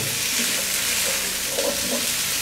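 Okra frying and being stirred in a pan, giving a steady, close sizzle with soft stirring scrapes riding on top, and no voices.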